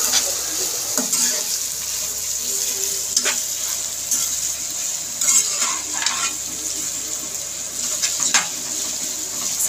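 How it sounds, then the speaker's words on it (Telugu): Crushed ginger garlic paste stirred into a hot pan for street-style beef noodles, a steady close sizzle with scraping spoon strokes and occasional clinks throughout, no talk. "ఇప్పుడైతే దంచిపెట్టిన అల్లం వెల్లుల్లి పేస్ట్ కూడా వేసి బాగా కలుపుకుందాం."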